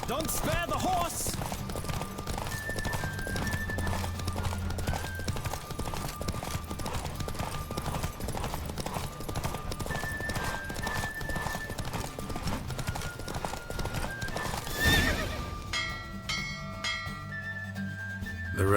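Galloping horse hooves pound steadily through a horse race in The Witcher 3 video game, a continuous rapid clip-clop under a game music score, with voices calling out and a brief whinny near the end.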